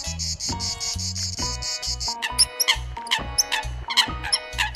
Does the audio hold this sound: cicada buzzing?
yes